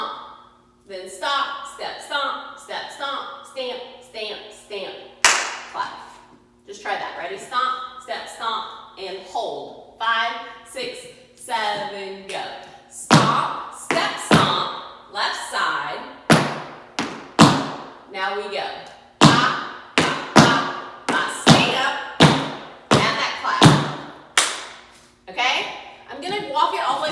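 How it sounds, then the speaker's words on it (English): Tap dance stomps, stamps and a clap land as a run of crisp, loud impacts in an uneven rhythm, sparse at first and then rapid and dense, with a voice talking between the early hits. "Stomp, step, stomp, stomp, step, stomp, then stop, step, stomp, stamp, stamp, stamp, clap."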